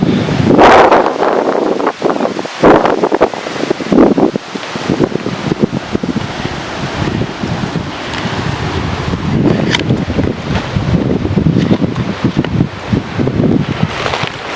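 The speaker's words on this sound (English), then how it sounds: "trying to get out of the wind a little bit" Strong wind buffeting the microphone on a green hillside gully at the McKenzie Conservation Reserve near Alexandra, Victoria, a loud continuous roar with gusty swells and rustling throughout, no voices.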